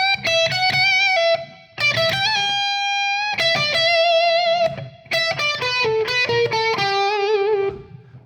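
Overdriven electric guitar playing a slow blues lick in a rockin' style, sustained bent notes and short phrases with pauses, clear and close, played alone.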